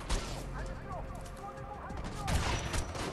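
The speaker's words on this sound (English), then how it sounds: "Oh my god, I missed. These bullets, though." Gunfire in the shooter game Homefront: The Revolution, a fairly faint stretch of rapid shots and impacts running throughout, heavier near the end, with a player talking over it.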